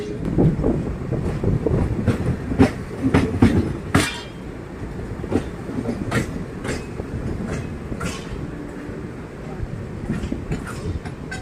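The Netravati Express, running from Mumbai Lokmanya Tilak to Thiruvananthapuram Central, rolls past with loud, continuous rumbling and repeated clickety-clack wheel beats over the rails throughout.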